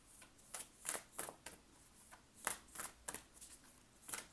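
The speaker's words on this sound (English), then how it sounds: "I start shuffling very stressfully" Tarot cards are shuffled in a series of quick, crisp riffling bursts, close and fairly quiet, in an irregular rhythm with short pauses between them, and no talking.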